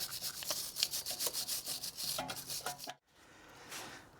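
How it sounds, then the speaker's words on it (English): Brake dust is scrubbed off the rear brake caliper of a Lexus IS250 or IS300h: a close, quick rhythmic brushing rasp that stops abruptly, followed by quiet room noise. "So just get rid of all this brake dust muck."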